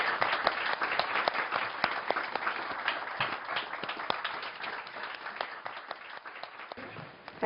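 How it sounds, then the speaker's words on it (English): Audience applause at a public conversation event with the Dalai Lama, sustained dense clapping from a large crowd that continues steadily throughout at fairly close range. "if we can just have a round of applause in the meantime"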